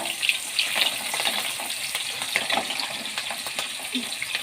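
Onions dropped into hot oil frying, a steady crackling sizzle with bubbling spatter, moderately loud and close, running continuously without talk.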